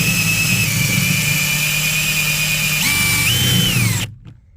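A drill bit drills out a rivet on a 2006–2012 Hyundai Santa Fe during speaker replacement, giving a loud, close, high-pitched whine that holds steady, shifts pitch near the end, then cuts off abruptly.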